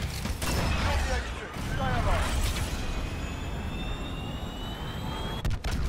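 The Chopper Gunner killstreak helicopter from Call of Duty: Modern Warfare hums as a mechanical engine drone with whining, rising tones and some clanks. A player talks over it.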